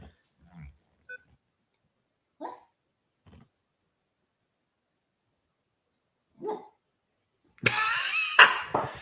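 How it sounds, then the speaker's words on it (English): A small female dog whimpers in her sleep during a nightmare, giving a few soft, separate yelps and muffled little woofs spaced seconds apart in a quiet room, followed by a louder burst of rustling at the end. "My little dog's having a nightmare there. She's here speaking."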